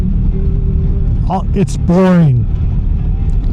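A BMW R1300 GSA motorcycle cruises on a highway thruway, a steady low engine and wind rumble running throughout beneath a rider's brief speech.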